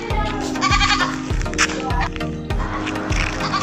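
A goat in a village bleats repeatedly in loud, close, wavering calls, with outdoor background noise and faint voices nearby.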